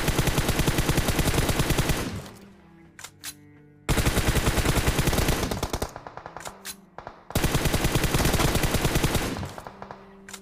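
Suppressed M4 rifle fire in a shooter video game: three long, loud, rapid automatic bursts separated by short gaps holding brief clicks and quieter mechanical sounds.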